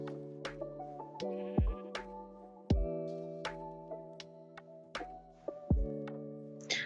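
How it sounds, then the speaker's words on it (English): Sheep in Minecraft bleating repeatedly, several wavering bleats close by at a fairly steady pace, mixed with soft clicks and footstep-like ticks. "let's go find ourselves some sheep"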